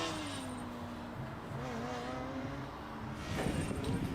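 A Formula Student race car in an endurance event on a track, its engine a steady droning whine that rises and falls in pitch as it drives, heard from a distance and ending in a louder surge.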